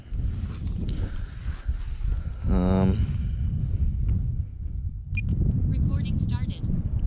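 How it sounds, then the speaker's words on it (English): Wind buffets an outdoor microphone as a Mini 2 drone is readied for launch, a steady low rumble running throughout, with a brief tonal whine in the middle and clicks near the end. "It's getting a little windy now"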